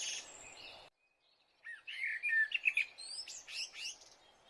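Cartoon birds chirp and tweet in a morning jungle, a bright cluster of overlapping calls after a short pause, fairly close and with no talk over them.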